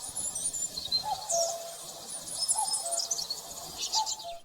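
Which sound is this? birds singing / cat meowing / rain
birds singing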